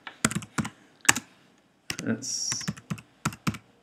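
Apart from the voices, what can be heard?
typing on a computer keyboard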